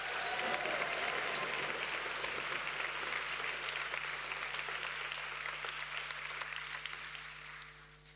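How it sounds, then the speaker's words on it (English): A crowd in a gym at a youth event applauds a guest speaker, Mr. Armour; loud, sustained clapping that carries on for several seconds before tapering off at the end. "So please join me in giving Mr. Armour another huge round of applause."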